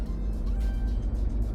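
A manual-transmission car pulls away after a gear change, its engine rumbling steadily and close with a low, continuous drone that holds even through the short clip.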